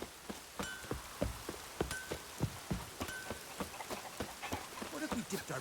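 Rain falls in The Witcher 3: Wild Hunt, a faint, steady patter with scattered sharp drop-like ticks throughout.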